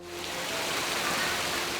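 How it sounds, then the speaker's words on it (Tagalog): Heavy rain pours down hard and steady, a dense hissing wash that swells quickly at the start and then stays loud and continuous, close by with no voices. "Biglang bumuhos ang malakas na ulan."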